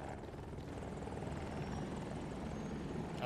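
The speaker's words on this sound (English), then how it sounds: "attack heli." An attack helicopter in Battlefield drones steadily nearby, its rotor and engine roar sustained and even for a few seconds without speech.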